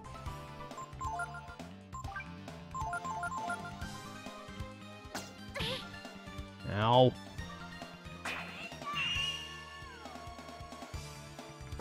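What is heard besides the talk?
spell sound effects from the video game Breath of Fire III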